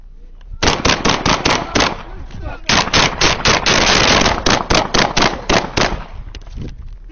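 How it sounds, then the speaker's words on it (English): Rapid bursts of gunfire crack out during an armed standoff with police, loud and close, in dense volleys with brief gaps, sometimes single shots, sometimes fast automatic strings, filling most of the stretch. "shots fired"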